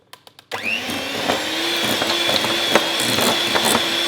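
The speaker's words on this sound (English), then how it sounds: "we're going to beat this on high until the butter becomes really pale and creamy." An electric mixer beats butter on high speed in a bowl until pale and creamy for chocolate fudge slice icing. A few light clicks come first, then a steady, loud motor whir runs alone with intermittent rattles of the beaters against the bowl.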